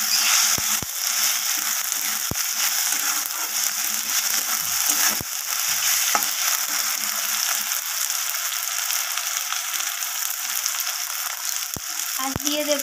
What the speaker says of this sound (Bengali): তো রসুন বাটা দিলাম 1 চামচ প্রথমে।